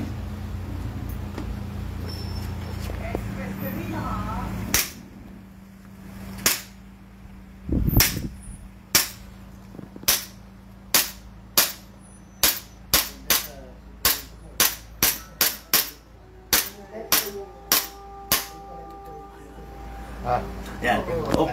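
Repeated single gunshots from a CZ Shadow 2 pistol at an indoor range, sharp loud cracks spaced a second or so apart in a steady string, with people talking faintly in the background before the firing begins.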